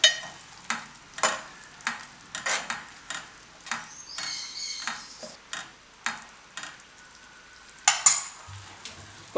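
Spoon stirring a Vaakkaya dal mixture in a pan, repeated scraping strokes in an uneven rhythm, each a short bright rasp over a faint background sizzle, close and fairly quiet.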